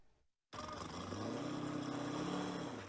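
Hill climb race vehicles at the Appalachian Hill Climb event rev their engines in the mountains, a sustained loud engine roar that rises in pitch after a brief silence, with no talk over it.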